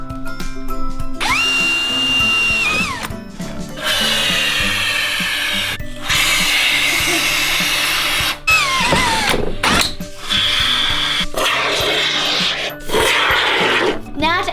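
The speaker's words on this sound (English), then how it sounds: "I'm going to drill a hole and put some foam in" A power drill bores a hole into a wheel of a homemade amphibious vehicle, running in several bursts with short pauses between them, loud and close.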